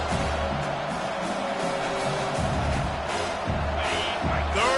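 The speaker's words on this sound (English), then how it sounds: "this crowd is tearing the lid off this place." A football stadium crowd roars in a sustained, loud wash of cheering, with a commentator's voice and broadcast sounds layered over it.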